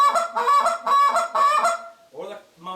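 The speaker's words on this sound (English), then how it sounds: "you can do the moan cluck or the cluck moan" A hunter blows a goose call in a moan-cluck pattern: four quick, loud honking notes in a row, a short pause, then two lower, softer clucks, heard close and on their own.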